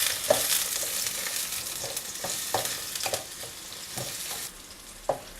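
Small shallots fry in oil in a pan, a bright steady sizzle broken by repeated stirring scrapes at irregular intervals, close and moderately loud, with no voices.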